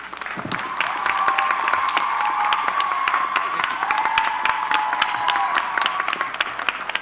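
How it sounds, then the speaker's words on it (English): Sustained applause from a crowd at a Dr. Martin Luther King Jr. commemorative vigil fills the space, steady and moderately loud, with some cheering and a few whoops mixed in. "Let's give a warm round of applause"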